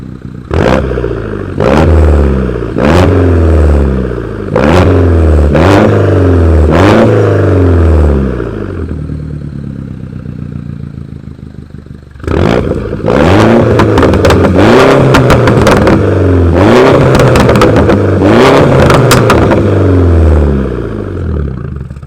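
A straight-piped R56 Mini Cooper S exhaust in sport mode, giving a run of loud, sharp revs that rise and fall, then a quieter idle, then another burst of quick revs with crackling, close and alone.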